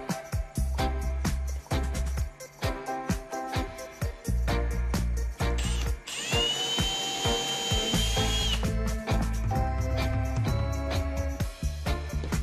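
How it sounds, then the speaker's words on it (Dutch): A power drill bores into a test wall to hang a coat rack, a loud continuous whine with several short bursts and a steadier high-pitched stretch midway, alone without talk. "Eerst waterpas de positie aftekenen en dan boren"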